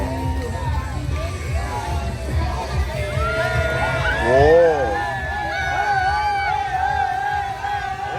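A crowd cheers and whoops at a spinning basket boat show in Hoi An, bright voices rising and falling in a lively swell over a few seconds, close by, with one person exclaiming amid the noise.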